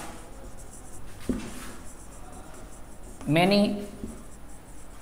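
A teacher writes on a board during an English grammar lesson, soft scratchy strokes under a steady background hiss, interrupted by a short spoken word near the end.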